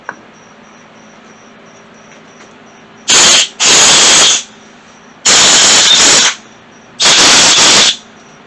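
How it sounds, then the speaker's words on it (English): Compressed air blasts clear leftover cleaner from the holes of a 1994-2002 Cummins vacuum pump being resealed: four close, loud, sharp hissing bursts, each lasting under a second, separated by short pauses over a quiet background. "I'm going to actually use a little bit of air and blow those out"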